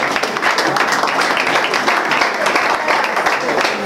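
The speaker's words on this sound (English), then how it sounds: "Clap for them now." An audience claps steadily for people named one by one at a gathering, dense and fairly loud throughout with no pauses.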